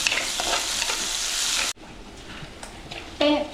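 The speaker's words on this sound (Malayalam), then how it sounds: "തക്കാളി നല്ലതുപോലെ കുറച്ചൊന്ന് വഴണ്ട് വരട്ടെ" Tomatoes sauté in hot oil in a pan for a Kerala-style sardine fish curry. A loud, close sizzle with stirring cuts abruptly to a quieter, softer frying, with a few spoon clinks near the end.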